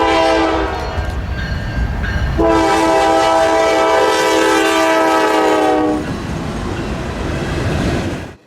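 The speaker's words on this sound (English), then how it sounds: "our first train arrived soon, NSB-09 with a lovely Dash 9 duo, the trailing one being a partial whiteface" Freight train NSB-09 led by two Dash 9 locomotives, the trailing one a partial whiteface, arriving at a rail junction: rumbling approach with a loud sustained horn blast lasting several seconds, then continued rolling noise.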